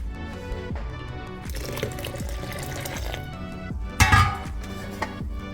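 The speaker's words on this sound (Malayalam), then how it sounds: "ഇതിൻ്റെ കൂടെ നമ്മൾ നേരത്തെ കുക്ക് ചെയ്ത വെള്ളം കൂടെ ആഡ് ചെയ്യാം" Cooking water pours steadily into blended soup paste, a continuous liquid rush with a brief louder splash near the end.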